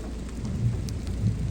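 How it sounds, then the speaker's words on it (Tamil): Steady rain with low rumbling thunder on a high, scenic stretch of nature, a continuous dense wash of falling water with deep rolling booms, close and fairly loud, no voices. "மழை"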